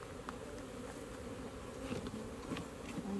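Agitated honeybees swarm at an opened hive, a continuous close, moderately quiet buzzing drone that swells slightly as individual bees fly near, with no voices.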